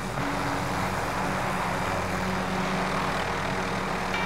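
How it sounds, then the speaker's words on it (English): A low, steady rotor-and-engine drone from an enemy helicopter in the video game Call of Duty: Warzone, holding at constant loudness throughout without any voices. "Enemy chopper, lads."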